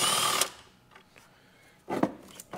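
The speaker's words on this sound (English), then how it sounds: "the first thing we're going to want to do is take this 13 millimeter bolt out" A 13 millimeter bolt holding the power steering reservoir is backed out with a tool during engine removal on a Chrysler Town & Country minivan, giving a loud whirring burst, a pause, then short mechanical spurts close by.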